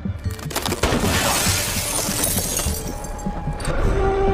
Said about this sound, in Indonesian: Karena dengan kaca mobil yang pecah